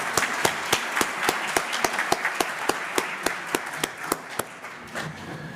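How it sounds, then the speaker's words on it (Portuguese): Strong rhythmic audience applause at an awards night for successful Minas Gerais brands, with prominent unison claps beating at a steady pace over a broader wash of clapping that thins near the end. "Senhoras e senhores, para todos os agraciados nessa noite, uma forte salva de palmas"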